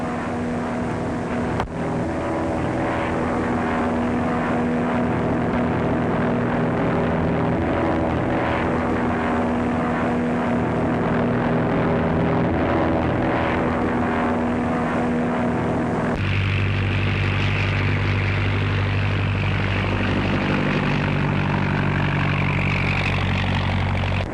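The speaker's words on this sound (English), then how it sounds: "I know the plane." A propeller airplane flies overhead, its engine droning steadily and loudly throughout, with the pitch dropping sharply partway through as it passes close by.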